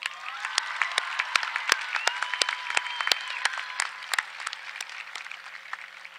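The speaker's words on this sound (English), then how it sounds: "another round of applause." A high school graduation crowd applauds the champions, with sharp distinct claps standing out over a sustained bed of clapping, fairly close and moderately loud.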